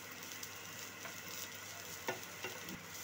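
Chopped green chillies and onion fry in hot oil with a steady, close sizzle, broken by a few brief stirring scrapes and clinks of a utensil.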